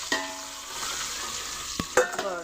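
Steady, close sizzle of eggs frying in oil in a pan, with a few sharp clinks of a utensil near the end.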